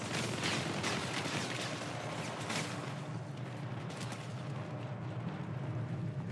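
Gunfire from the video game Syndicate, a dense continuous barrage of shots and explosions filling the scene, loud and sustained without talk.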